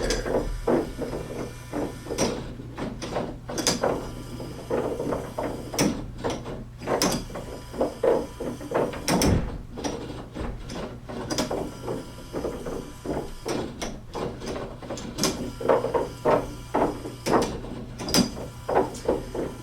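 A motor-driven mechanism running at about 30 RPM skips on its gear teeth, giving a steady stream of sharp clacks and knocks over a low hum, with irregular louder hits and no voices.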